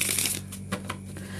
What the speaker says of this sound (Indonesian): Oke Virgo, kita shuffle dulu kartunya.